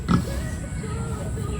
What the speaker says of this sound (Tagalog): may baboy ka na pala.